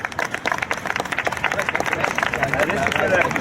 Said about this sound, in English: Everybody, a little round of applause.